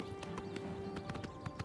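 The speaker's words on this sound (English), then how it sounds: "Maybe don't wave the torches around in the horse's face." Horse hooves clip-clopping in the video game Oblivion Remastered: a steady run of sharp, fairly close hoofbeats at a walking pace over a low ambient game hum.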